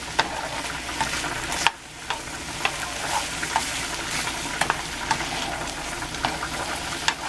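Chicken Alfredo sauce bubbling in a pan while a utensil stirs it, a steady close sizzle punctuated by regular sharp scrapes and taps against the pan, no voices.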